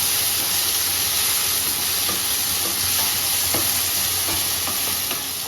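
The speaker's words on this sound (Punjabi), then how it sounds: "ਆਪਾਂ ਆਪਣਾ ਸਾਰਾ ਮਸਾਲਾ ਇਹਨੂੰ ਭੁੰਨ ਲੈਣਾ" Spice masala for a besan (gram flour) curry fries in a pan with a steady, loud sizzle and hiss, broken by occasional stirring scrapes and taps, with no voices.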